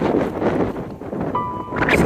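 Gusty wind buffets the microphone on a mountain trail, producing loud rumbling bursts that rise and fall, with a faint brief tone in the middle.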